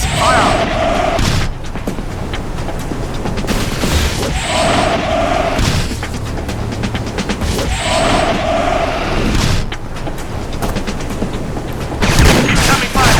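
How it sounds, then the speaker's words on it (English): Battlefield 2: Modern Combat combat on an oil rig brings sustained gunfire with rapid bursts and heavy booms, loud and continuous throughout, while radio-style voices speak over the fighting. "Enemy has us in fire trap. We cannot move under this fire."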